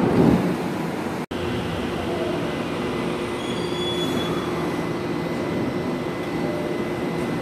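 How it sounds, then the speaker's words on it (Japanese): Tokyo Metro Tozai Line train at Urayasu station, platform 1: a steady rolling rumble of wheels and carriages with a brief clunk early on, high squealing tones from the rails, and no talk. "ドアが閉まります。"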